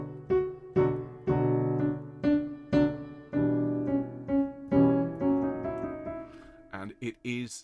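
Choir and orchestra perform Mozart's Great Mass in C Minor tuned down a semitone to Baroque pitch, sustained chords swelling and breaking in rhythmic phrases before a few short detached notes close the passage.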